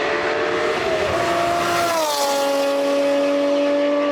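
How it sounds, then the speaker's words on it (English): A BMW G87 M2 with an S58 engine and a Valvetronic Designs equal-length midpipe roars past loudly, its exhaust pitch dropping sharply as it passes, then settling into a steady receding drone. "Cut to a video of that car doing the flyby."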